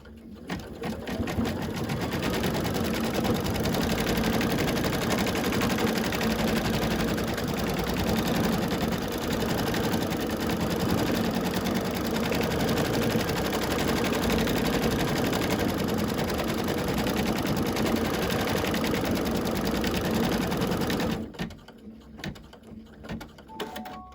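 A sewing machine runs steadily and close by, stitching with a fast rhythmic chugging for about twenty seconds, then stops, leaving faint rattles.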